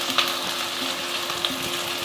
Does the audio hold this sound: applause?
no